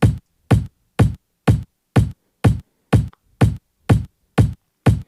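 A chopped kick drum sample taken from a drum break record repeats in a steady loop, about ten punchy, evenly spaced thumps with silence between, close and alone.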